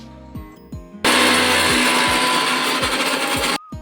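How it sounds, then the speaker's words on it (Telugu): A kitchen mixer grinder processes fried mustard seeds, cumin and dry coconut for a fish curry, with a few clunks of the jar before a loud, steady high whirring that runs about two and a half seconds, then cuts off abruptly. "ఒక మిక్సీ జార్లో యాడ్ చేసుకొని కొంచెం గ్రైండ్ చేసేసుకుందాం"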